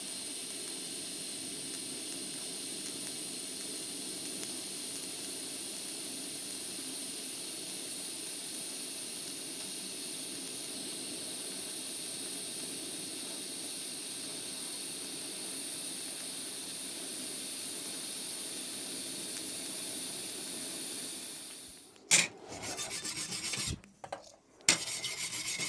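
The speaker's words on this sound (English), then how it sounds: "That welded very nicely." TIG welding a 2mm stainless steel butt joint on easy weld settings gives a long, steady hiss with a faint buzzing edge, close and constant for about twenty seconds before cutting off into brief clunks and rustles.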